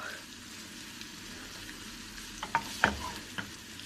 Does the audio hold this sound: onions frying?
yes